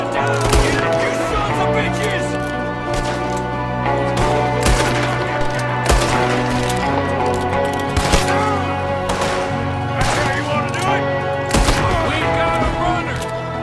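A Red Dead Redemption 2 shootout: repeated sharp gunshots crack out in irregular bursts over a steady droning musical score, with someone talking over the action.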